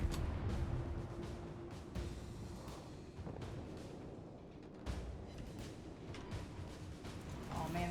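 Naval guns fire in a warship battle game, several heavy booms and artillery blasts spaced across a rumbling battle backdrop while a person talks over the action.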